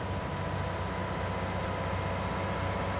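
An old Ford tractor idles in Farming Simulator 19, a steady, low engine drone with a constant hum and no variation in pitch or loudness, heard alone.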